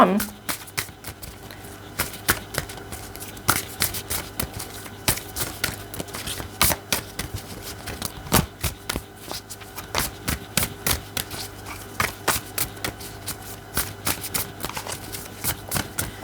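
Oracle cards being shuffled by hand at close range, a long stretch of quick, crisp riffling and slapping in an irregular rhythm.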